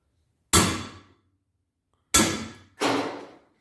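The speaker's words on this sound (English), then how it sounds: "Use our hammer to knock it out." A hammer strikes a driver tool to knock out a welded valve seat, giving three loud, sharp metallic blows that ring briefly: one alone, then two more in quick succession.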